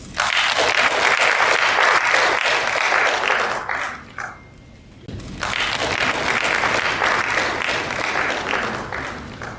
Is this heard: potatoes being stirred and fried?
no